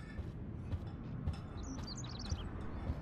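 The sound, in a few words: bird chirping in the video game Life is Strange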